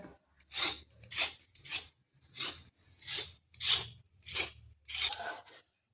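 Carrots are scraped clean with about eight evenly spaced rasping strokes, close and distinct, each a short scratchy rub against a quiet background.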